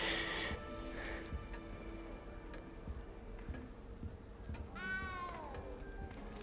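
A cat in Hogwarts Legacy gives a single faint, drawn-out meow near the end, heard over quiet game ambience.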